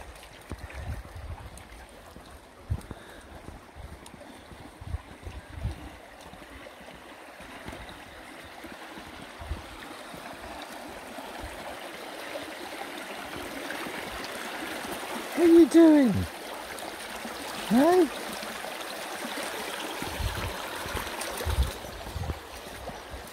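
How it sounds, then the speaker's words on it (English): A stream flows at a crossing on a trail walk, a soft continuous trickle and wash heard near, with brief louder thumps and a voice speaking now and then. "We've got to do some stream crossings on the walk."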